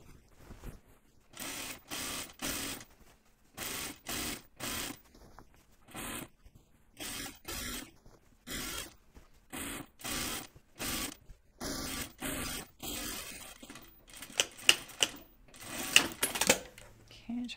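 A domestic sewing machine runs in short repeated bursts while stitching a back tack on an unlined jacket, stopping and starting with brief pauses and a few sharp clicks near the end.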